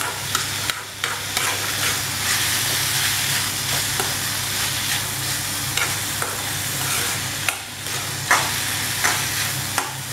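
A tomato mixture for egg fry sautés in a pan with a loud, continuous sizzle and hiss. A spoon scrapes and stirs through it in irregular strokes, with no voices.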